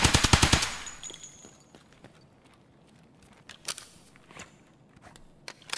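Bursts of automatic gunfire in the shooter game Escape from Tarkov, a rapid volley of about eight shots up front followed by scattered fainter distant shots and footstep-like clatter, with no talk.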